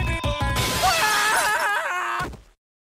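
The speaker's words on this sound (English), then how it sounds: "The weaker glass should shatter if I drop fire bars at a high frequency." Glass shattering in an animation, a loud crash that spills into a long bright scatter of tinkling shards. Under it runs a warbling, wavering tone, and then it cuts to silence.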